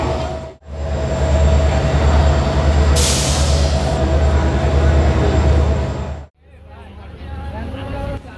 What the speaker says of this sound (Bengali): আমরা আল্লাহ নাম নিয়ে দ্রুতযান এক্সপ্রেসে করে রাত 8টা 45 ট্রেনে যাত্রা শুরু করলাম পঞ্চগড়ের উদ্দেশ্যে।